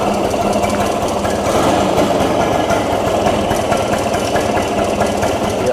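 A fifty-year-old Rajdoot GTS 175 motorcycle engine idles close up, a steady loud thumping chug with its hot silencer, running continuously with no voices.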